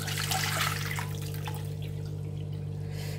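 Water drains from soaked poha through a strainer in a steady, soft trickle and splash, with a low hum underneath.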